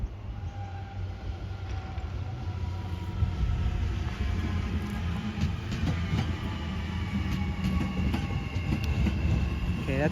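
A passenger train rolls through a station without stopping, a loud continuous rumble of wheels and carriages with faint rhythmic clacks throughout.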